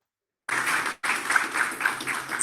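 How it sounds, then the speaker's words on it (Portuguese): A conference audience applauding steadily after a brief silence, a dense patter of many clapping hands with a short dip near the start. "mais uma vez, uma salva de palmas para"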